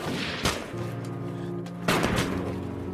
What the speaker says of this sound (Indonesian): mereka bawa senapan dan bakal nembak si Anotsu